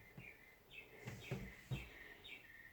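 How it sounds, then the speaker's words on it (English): A small bird repeats quick, high chirping phrases in a steady pattern at night, faint and somewhat distant against a quiet background hiss. "This bird goes on and on all night long, keeping me up all night."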